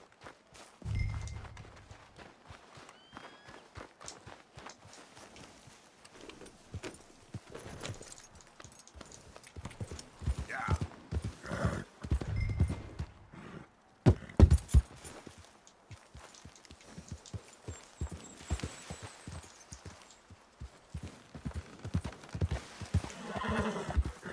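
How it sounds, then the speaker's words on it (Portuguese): Rapid clip-clop hoofbeats of a galloping horse in Red Dead Redemption II run through most of the stretch, close and rhythmic, with a couple of neighs and brief pauses between bursts of running. "mas vamos de cavalo, que é mais rápido"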